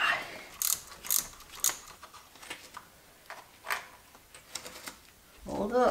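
A ratchet clicks while removing rusted 13mm and 10mm bolts from a BMW E46 thermostat housing, irregular bursts of ticking and metallic taps, close but quiet, with brief scraping at the end.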